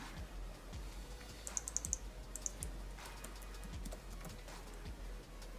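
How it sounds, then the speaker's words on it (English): Keys tapped on a computer keyboard as a host name is entered, a quiet short burst of clicks over low room hum. "let me type the host name here"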